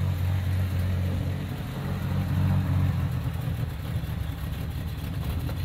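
The engine of a 1965 Plymouth Barracuda with a three-on-the-tree column shift runs steadily at a low idle, a close, even rumble that changes little while the car is driven with the clutch.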